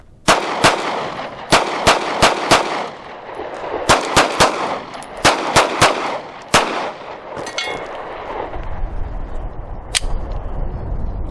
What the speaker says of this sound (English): next I'm going to shoot the CCI Blazer 124 grain full metal jacket